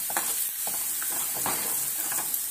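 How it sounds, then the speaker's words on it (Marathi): A spoon stirs turmeric and salt into hot oil with fried onion in a pan for Maharashtrian pithla. A steady close sizzle runs throughout, broken by soft scraping strokes. "त्यात आता मी 1 चमचा हळद घालते आणि यातच मीठ घालून व्यवस्थित मिक्स करून घेऊया।"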